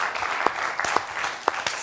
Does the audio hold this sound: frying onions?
no